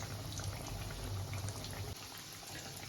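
Chicken kebab fries in a pan, a quiet, steady bubbling sizzle that carries on without a break, faint and close.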